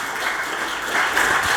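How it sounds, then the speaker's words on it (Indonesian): A church congregation applauds during a Christmas sermon, producing a steady, fairly loud wash of clapping with no individual claps standing out. "kasih tepuk tangan untuk Tuhan."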